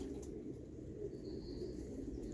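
Pigeons coo softly and steadily in a loft, a low murmuring drone of several birds with faint chirps above it, no voices.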